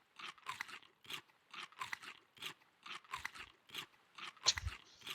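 Coconuts being eaten in the survival video game Raft: a run of about a dozen short, crisp crunching bites in an uneven chewing rhythm, close and clear against silence.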